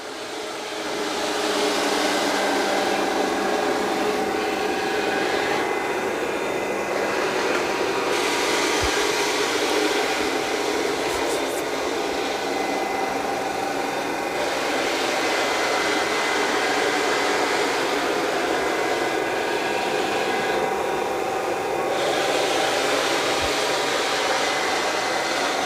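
An ECOVACS DEEBOT T30S robot vacuum and mop runs with a loud, steady whirring motor drone and airy hiss that stays constant and close for the whole stretch, no voices over it.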